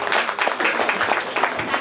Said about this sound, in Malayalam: എല്ലാവരും നല്ലൊരു കൈയടി.